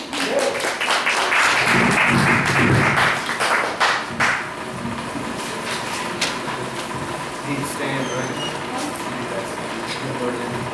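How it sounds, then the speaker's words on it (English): Audience applause at a poetry night: dense clapping for roughly four seconds that thins out into scattered claps and quieter room noise. "Let's give a big round of applause for our next poet."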